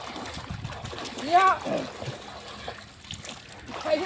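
A swimmer doing backstroke in icy water sends up a short burst of splashing and trickling, moderately close, while people talk and call out over it.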